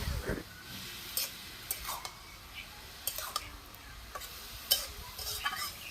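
Fried potatoes and carrots go into a pan where cauliflower is frying with turmeric, making soft sizzling and stirring scrapes with a few sharp clinks.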